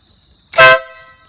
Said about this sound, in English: This is the Schwebel Nautilus air horn. It is obnoxiously loud.